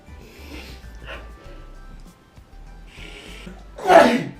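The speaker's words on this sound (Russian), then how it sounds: "никто не знает, что заячью капусту можно нюхать и чихать" A person sneezes after sniffing wood sorrel, one loud, abrupt sneeze near the end. Before it come quieter voice sounds and some talking.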